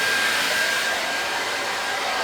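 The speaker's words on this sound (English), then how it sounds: "why not get myself a blow dryer and just blow dry my hair" A hair dryer blows with a steady, loud, even whoosh throughout, nothing else audible.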